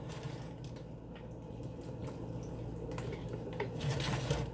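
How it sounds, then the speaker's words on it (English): Water pours from a bottle into the soil of an indoor lavender plant, a soft steady trickle with small drips and splashes, faint and close, growing slightly louder toward the end. "find a good angle to put the water in"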